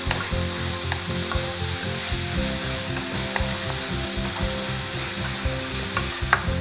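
Onion sautéing in a pan for vegetable manchurian, a continuous sizzle with stirring scrapes and occasional sharp pops, close and steady throughout.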